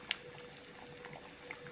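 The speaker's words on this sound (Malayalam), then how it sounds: "അപ്പം ചിക്കൻ നന്നായിട്ട് തിളച്ച് വന്നിട്ടുണ്ട്, നന്നായിട്ട് തിളച്ചു" Chicken curry boiling in a pot, giving a soft, steady bubbling with a few small pops, heard alone at low volume.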